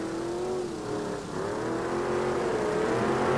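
A 1987 Chevy IROC engine at a 1988 monster truck event in Saginaw drones steadily and loudly, its pitch dipping and wavering slightly as it revs, with no voices over it.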